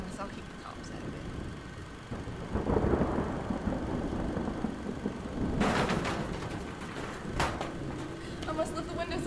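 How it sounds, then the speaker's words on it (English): A video-game thunderstorm rages outside, a steady wash of rain and wind with deep rumbling thunder swelling midway and again later, loud and continuous throughout. "Must be a gust of wind coming in from that storm outside."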